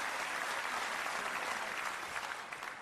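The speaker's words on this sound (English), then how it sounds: "The applause will have to die down first, though, and you can't blame them." Sustained audience applause at a professional snooker final, a dense steady wash of clapping that fills the hall and begins to thin slightly toward the end.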